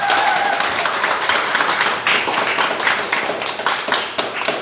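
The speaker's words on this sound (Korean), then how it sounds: "큰 박수 부탁드립니다" A crowd applauds with dense, continuous clapping, close and fairly loud throughout.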